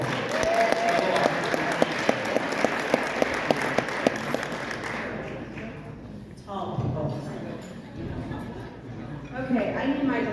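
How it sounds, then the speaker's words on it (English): Audience applause at a realtors' event rings out for several seconds with a few sharp individual claps standing out, then fades as a voice begins speaking over the room. "Everyone, let's give a big round of applause for my good friend,"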